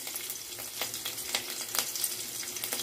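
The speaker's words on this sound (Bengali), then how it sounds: "রসুন আর কাঁচা লঙ্কা কুচি ফোড়ন দিয়ে দেবো" Garlic and chopped green chili frying in hot oil, a soft continuous sizzle with faint crackles and light stirring clicks, fairly quiet with no voices.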